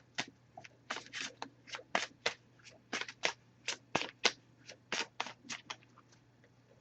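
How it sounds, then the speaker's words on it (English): An oracle card deck is shuffled by hand close up, giving a run of quick, crisp riffling and flicking bursts in uneven rhythm against a faint background hum, with no talking. "I'm just going to give this a few shuffles."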